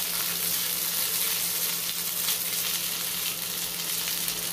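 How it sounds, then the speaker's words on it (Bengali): Curry leaves hit hot oil with a mustard-seed tempering and set off a loud, dense, steady sizzle that holds evenly throughout, close up with no voices. "এর মধ্যে তেলের মধ্যে সর্ষে ফোড়নের মধ্যে কারি পাতা দিয়ে দিচ্ছি।"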